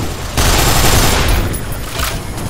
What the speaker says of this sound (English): like this gun, the Avenger